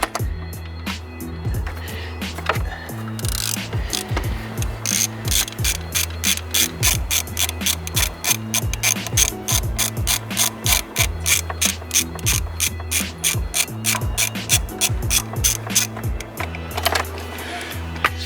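A ratchet loosens a tight bolt on the drive belt of a BMW F30, a long run of close, sharp clicks in quick repeated strokes with steady rhythm and short gaps between pulls.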